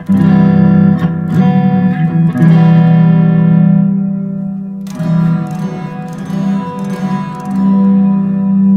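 Sustained electric guitar notes through a Sonicake Matribox 2 soaked in heavy spring reverb, ringing and splashy, with a few picked strums decaying into a wet tail.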